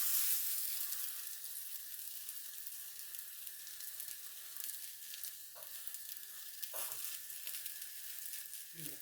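Burger patties sizzling steadily in a hot pan, a continuous close hiss with a few brief clinks or stirs near the end, no voices.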